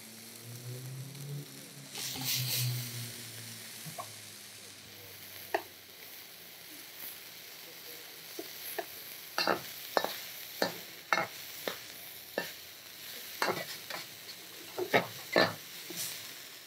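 Food fries in a pan with a soft sizzle while a metal utensil stirs and scrapes against the metal pan, giving a string of sharp irregular clinks and scrapes that grow more frequent in the second half.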